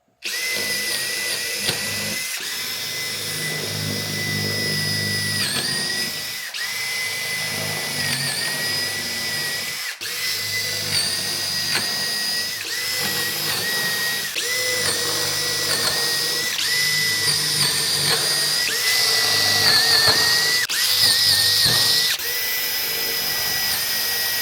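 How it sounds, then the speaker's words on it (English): Power drill boring a series of 5/16-inch dowel holes, running loud and steady for the whole stretch with brief pauses and pitch shifts as the bit bites and eases off, mechanical whine throughout. "we got to drill a bunch of 5/16 holes"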